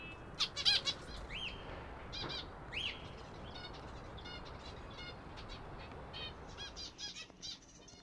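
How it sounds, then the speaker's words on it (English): Finch chicks chirp and squawk in a nest area, a busy mix of close, high calls and fluttering, with soft steady background noise throughout. "Everyone chirping softly, waiting for breakfast."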